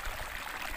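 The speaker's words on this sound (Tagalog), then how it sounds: "agos ng ilog na ito." A strong current rushing along a cold river off Baypass Road in Barangay Dumuclay, Batangas City: a steady, dense broadband wash of water with a low rumble, continuous and fairly close, no voices.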